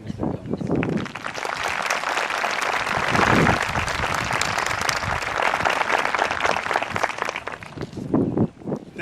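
A large graduation audience applauding in a hall, a dense sustained roar of many hands clapping that swells mid-way and tapers off near the end.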